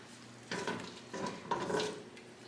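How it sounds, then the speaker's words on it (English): French onion soup with dried thyme stirred in a pot, a few soft scraping sweeps over a low simmer, quiet and close. "And then give that a good stir"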